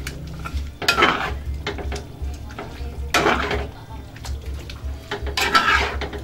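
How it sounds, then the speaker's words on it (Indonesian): Basil leaves and petai beans being stirred in a pan with a utensil scraping and clinking against the metal in several bursts, with a low steady hum underneath and no one talking. "Kemudian daun kemangi kita masukkan, lalu pete. Nah, kita aduk dulu."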